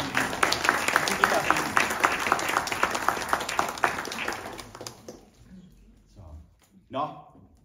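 An audience applauds at an integration award ceremony, with brisk, evenly spaced clapping for about five seconds that stops abruptly. Brief speech and a few faint sounds follow.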